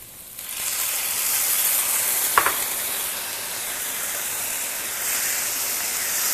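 Tomatoes drop into a pan of translucent frying onions for beef picadillo, raising a strong, steady sizzle with a brief clack of stirring, close and without talk.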